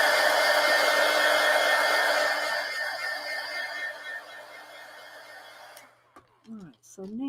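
A hair dryer blows on a colored page, a loud steady whoosh that fades down after a few seconds, followed by a voice speaking briefly as it stops.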